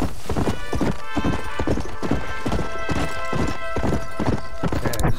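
Galloping horse hooves in Red Dead Redemption beat a rapid, regular clip-clop, close and loud, over a steady musical drone without any talk.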